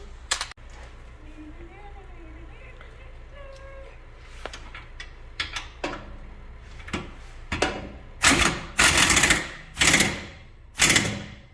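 Impact wrench tightening sway bar bolts on a car, heard as several short, loud buzzing bursts near the end after quieter clicks and shop noise, with people talking nearby.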